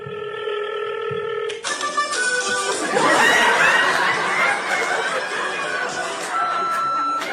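A telephone sounds its steady electronic ring tones during a stand-up comedy set, then gives way to a noisy burst of audience chuckles and laughter.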